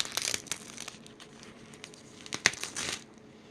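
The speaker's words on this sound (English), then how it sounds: "making a sheet of the Mod Podge, and then a little ASMR for you as I peel it off" A dried sheet of Mod Podge peeled away by hand gives close, crisp crinkling and crackling in uneven bursts, with a sharp tearing snap near the end.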